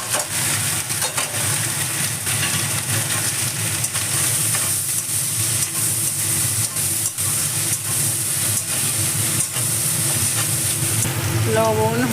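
Leftover rice tipped into a hot pan and fried, a steady close sizzle with stirring and scraping running throughout, unbroken and fairly loud, with no talk over it.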